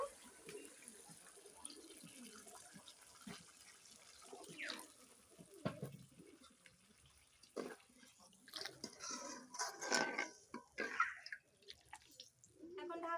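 Water pours into a pan of mustard-paste hilsa curry base, a splashing, running stream with scattered drips and clatter, loudest toward the end, close by with no talking.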